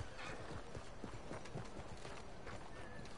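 Horse hooves clop steadily in Red Dead Redemption 2, a continuous run of rhythmic hoofbeats over a dense, noisy background.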